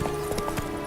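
Roach, Geralt's horse in The Witcher 3, clops along in a quick run of close hoof strikes over a dense game backdrop.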